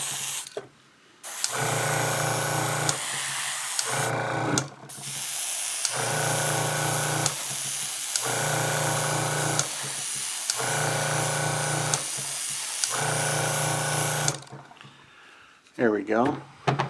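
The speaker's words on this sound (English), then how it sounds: "Now it's spraying more paint." An airbrush sprays paint onto a vinyl car top in repeated bursts of steady hissing, each lasting a second or two with brief pauses between, loud and close, ending with a few clicks and handling noises.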